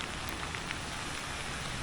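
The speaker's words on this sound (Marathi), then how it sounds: "तो पाऊस पडतोय" Constant soft hiss of rain falling on surfaces in a Konkan village beside a road, even and unbroken throughout.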